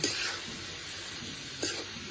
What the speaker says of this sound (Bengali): বাঁধাকপিটা আজকে একদম ভাজা ভাজা করব